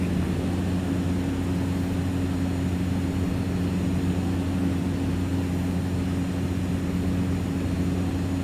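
The single turboprop engine of a Cessna 208 Caravan in the X-Plane flight simulator drones steadily at reduced throttle, a loud, even hum with a constant tonal whine and no talking.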